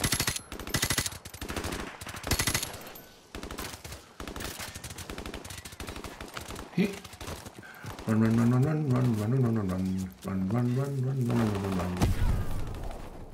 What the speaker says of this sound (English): Is that someone shooting over there?